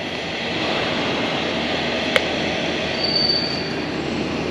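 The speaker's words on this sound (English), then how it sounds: "There you can hear the fan." The cooling fan of a heated and cooled hammock car seat blows in a steady, broadband rushing whoosh, close and constant, with a faint tick partway through and no talking.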